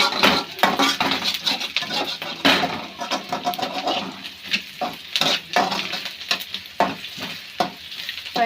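Pasta ingredients sizzling as they fry in a pan, with steady frying hiss broken by repeated scraping stirs and light clinks of a utensil against the pan.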